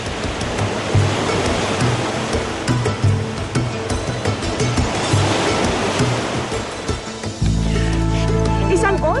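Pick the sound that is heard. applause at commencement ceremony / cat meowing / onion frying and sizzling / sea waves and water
sea waves and water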